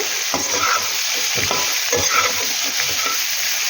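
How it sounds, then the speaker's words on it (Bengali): Vegetables for neem sukto sizzle steadily in a hot pan while a spoon stirs them in a series of scraping strokes, a continuous close frying hiss with no talking. "এবার ভালো করে সবজিগুলো একটু ভাজা ভাজা মতো করে নেব"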